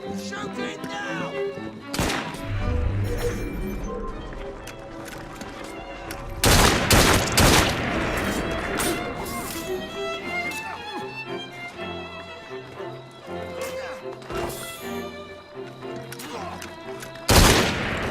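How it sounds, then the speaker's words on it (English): Gunfire in the Assassin's Creed Syndicate video game, with bursts of loud shots and thuds over a busy bed of game music and effects, while voices talk throughout. "Shoot it now!"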